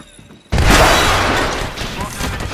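A grenade explosion in the video game Apex Legends hits with a sudden loud boom and crash, then a long rumbling, debris-filled tail that slowly fades.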